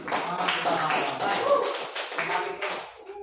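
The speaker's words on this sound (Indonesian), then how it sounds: "Bagus, tepuk tangan." Classroom clapping after a group presentation, a scattered patter of hands that comes in uneven bursts, with a teacher's voice and students talking over it.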